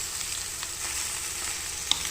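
Beef papaitan frying with butter in a pan, giving a steady close sizzle throughout with faint scrapes of stirring and one sharp clink near the end.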